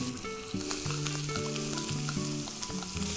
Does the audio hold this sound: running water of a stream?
no